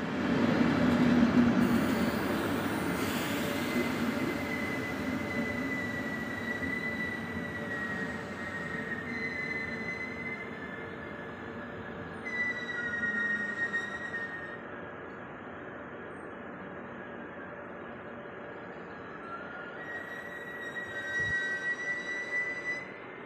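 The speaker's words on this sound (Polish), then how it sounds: "Wjeżdża pociąg osobowy relacji Mosty u Jabłonkowa Ostawa Swinow." A passenger train pulls into a station on the route from Mosty u Jablunkova to Ostrava-Svinov, its wheels squealing in long high tones over a steady low rumble, loud and close throughout with no talk.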